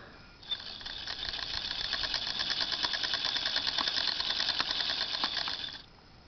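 A hand-cranked Wimshurst electrostatic influence machine spins up with a steady, dense mechanical whir and rapid ticking that builds and holds for several seconds before stopping abruptly.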